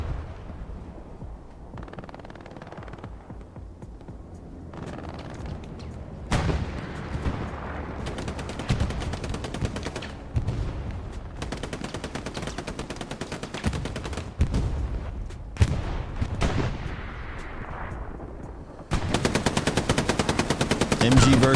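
Machine gun fire in the Hell Let Loose video game, dense rapid bursts rattling loudly for most of the span, with a brief lull and a heavier stretch of fire near the end.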